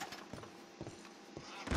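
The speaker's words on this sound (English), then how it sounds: "Kentucky Saddler horse" Kentucky Saddler horse hooves in Red Dead Redemption 2, a few soft, evenly spaced clip-clop thuds that are faint and fairly distant.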